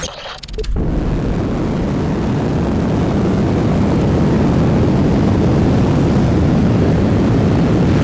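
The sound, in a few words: aerospace plane in video game Kerbal Space Program 2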